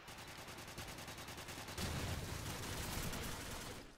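Rapid, evenly spaced gunfire from a video game, loud and close, followed by a denser, continuous burst of shots and noise.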